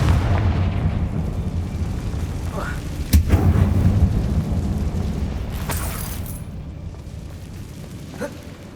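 The Confringo blasting spell in Hogwarts Legacy sets off a deep rumbling explosion, with a sharp crack near the middle and a long, fading boom. A fizzing burst and smaller cracks follow.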